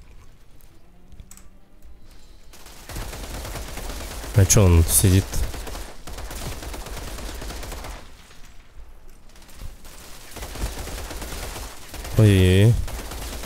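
Gunfire in the shooter video game Outriders, with bursts of rapid shots and heavy blasts breaking over a noisy battle background, while a player talks at intervals.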